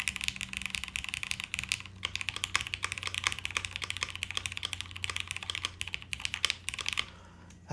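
Continuous fast keystrokes on a plateless mechanical keyboard give a dense, close patter of deep, muted clacks that trails off near the end with a last stray press.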